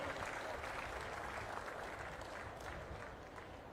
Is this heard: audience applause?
yes